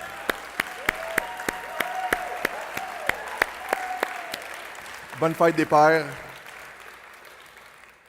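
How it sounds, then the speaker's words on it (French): A small church congregation claps for the fathers present, a run of distinct, evenly spaced handclaps close by, followed by a brief spoken phrase before the room falls quiet. "Est-ce qu'on peut applaudir les pères dans la salle?"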